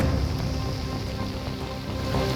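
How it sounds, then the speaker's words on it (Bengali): Steady rain pours down during a storm in Kolkata, a dense, even hiss of drops hitting surfaces with no breaks and no voices. "তারপর হাওয়া কিছুটা কমলেও বৃষ্টি কিন্তু চলছিল"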